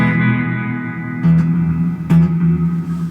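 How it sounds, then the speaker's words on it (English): A sustained guitar note through a Danelectro Spring King spring reverb turned all the way up washes into heavy, lingering reverb, with two sharp plucks that bloom and echo into a dense, ringing tail. "You'd only hear the reverb."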